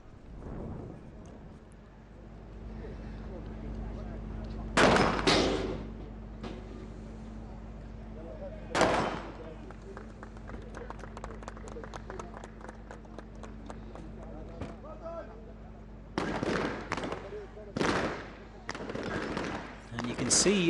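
Gunfire rings out at a police SWAT challenge as a sniper's rifle fires, with a few sharp, loud isolated shots spread over twenty seconds, plus a stretch of rapid clattering bursts, over a steady outdoor hum and faint background voices.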